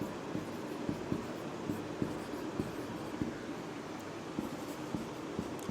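A teacher writing on a board in a classroom, with soft regular taps and strokes repeating steadily throughout over a faint background hiss.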